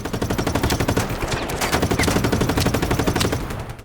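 Rapid, dense gunfire from Just Cause 3 gameplay, automatic bursts and overlapping shots forming a loud continuous barrage for several seconds with no talking.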